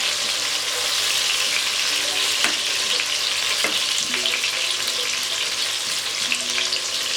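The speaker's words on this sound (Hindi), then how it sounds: "ये काट के मैं फ्राई कर रही हूँ" Chopped spring onion whites fry in hot oil for Chinese fried rice, a steady, close, bright sizzle throughout with occasional light clicks of a spatula.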